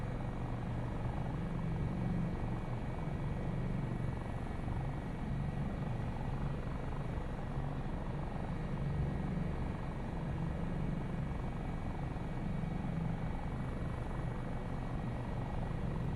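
Dauphin helicopter in Microsoft Flight Simulator, a steady rotor and turbine drone holding constant throughout, moderately loud and unbroken, with no voices.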